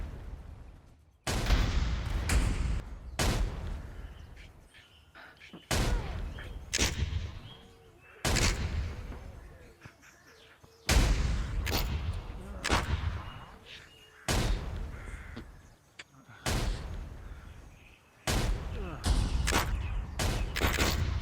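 Heavy mortar and cannon fire booms out in a battle scene of the war game Fractured Thrones. Loud, rolling blasts and volleys recur every couple of seconds over about twenty seconds, with little pause between them.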